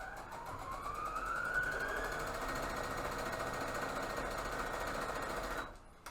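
A sewing machine stitches a fabric mask along a traced line, running in one steady, fast, close hum with a faint rising whine. It stops abruptly near the end.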